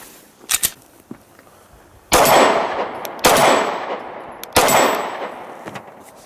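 A Sig Sauer P320 Compact pistol fires at an outdoor range, three loud, sharp reports spaced about a second apart, each ringing out with a decaying echo after a few quieter clicks and taps.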